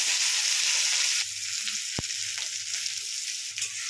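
Onion, green chili and cumin sizzle in hot white oil in a pan, a close, steady crackling hiss that lightens slightly partway through, with a few soft clinks of a utensil against the pan.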